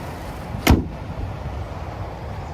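A single sharp clunk sounds as the hood release on a car with a 2.5-liter turbocharged four-cylinder engine is pulled, followed by quiet background ambience.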